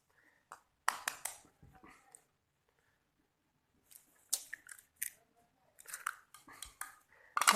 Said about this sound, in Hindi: तो हम अपने अंडे जो हैं वो फेंट लेते हैं उतनी देर।